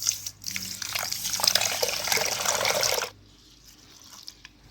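A close stream of water poured over a quarter kilo of seeraga samba rice to soak it for mutton biryani, splashing and gurgling for about three seconds before it stops abruptly, leaving a few faint drips.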